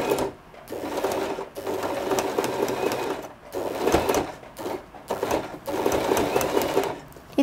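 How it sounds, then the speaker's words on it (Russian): A sewing machine stitches a wedding dress skirt onto its corset in long, rapid whirring runs broken by short pauses, close and steady. "И прошиваем полностью на ширину припуска, который мы там дали по линии низа."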